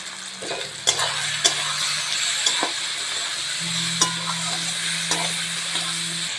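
Onions and tomatoes with ground ginger, chilli and turmeric fry in a pan, a steady close sizzle broken by several sharp scrapes and clinks of a spoon stirring against the metal.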